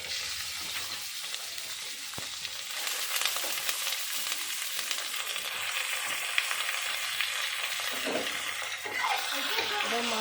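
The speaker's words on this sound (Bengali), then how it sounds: "এবার মাংসটা একটু ভাজা ভাজা করবো।" Chicken pieces frying in a pan with onions for Bengali chicken kosha, a steady close sizzle with occasional scraping and stirring of the spatula against the pan.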